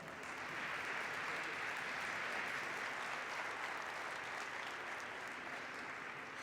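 An audience at a church congress round-table session gives a speaker a sustained round of applause, a dense, even wash of clapping that fills the room at a steady level from start to finish, with no talk over it.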